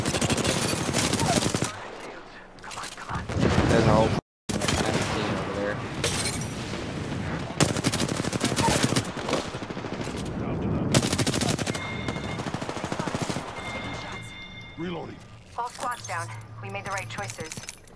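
Rapid video game gunfire in a Titanfall-style match, bursts of automatic weapon fire and booming explosions from a bombardment, loud and dense throughout, with players talking over it.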